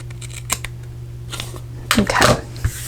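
Scissors snip through excess material on a handmade Christmas gift bag, a few short close cuts in quick succession against a quiet room.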